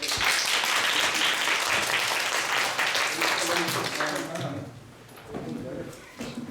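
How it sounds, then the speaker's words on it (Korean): Dense, sustained applause from a lecture audience after a spring-semester critical theory special lecture Q&A with two professors; it thins out and fades midway, with some voices following. "오늘 귀한 시간 내주신 두 분 교수님께 박수 드립니다."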